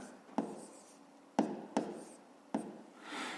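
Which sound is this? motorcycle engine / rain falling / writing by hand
writing by hand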